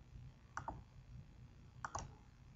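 Two pairs of soft, close computer mouse clicks, about a second apart, sound while paging through mail merge records in Microsoft Word 2007, over a quiet room hum.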